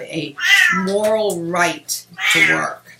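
A domestic cat meows loudly several times at close range, its drawn-out cries overlapping with a person talking indoors.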